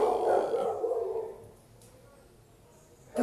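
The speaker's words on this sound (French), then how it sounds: "il y a le chien qui est en train de l'aboyer" A dog barks once or twice nearby indoors at the start, a loud yelping burst, then quiet room tone follows until another short sound at the very end.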